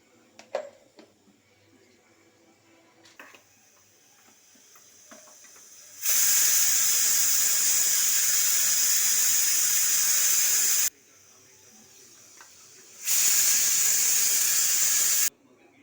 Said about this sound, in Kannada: ಮಿಕ್ಸಿ ಮಾಡಿಕೊಳ್ಳಿ